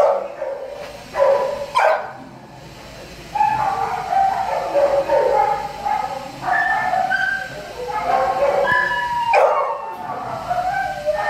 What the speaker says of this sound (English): That's a lot of babies for a small dog.